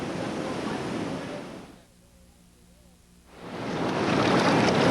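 Whitewater rapids crash and roar through the New River Gorge in West Virginia during a rafting run, a loud, broad rush that briefly drops away to a quiet moment before surging back even louder.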